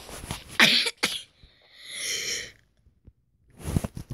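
A single sneeze bursts out close and loud, followed by a soft sigh or breath and another short noisy exhale, with quiet gaps between.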